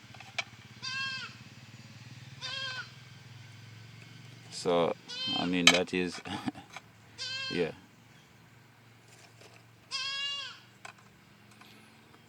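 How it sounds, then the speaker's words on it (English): A young goat kid bleats repeatedly for its absent mother outdoors, several loud wavering calls in bursts with pauses between, and someone speaks briefly among the cries. "you're hearing a little kid, a little goat kid,"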